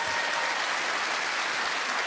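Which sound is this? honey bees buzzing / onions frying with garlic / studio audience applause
studio audience applause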